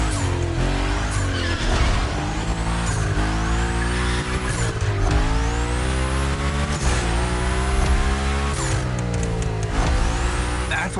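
Car drifting in the racing game The Crew Motorfest on a gymkhana course, with repeated loud tire squeals and a steady revving engine filling the whole stretch.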